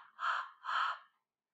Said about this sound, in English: The children heard her panting.